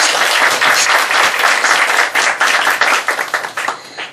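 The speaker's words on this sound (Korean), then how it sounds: "어찌됐든 박수합시다." A church congregation applauding together, dense and loud close-up clapping that holds steady for a few seconds, then thins into scattered individual claps before fading out.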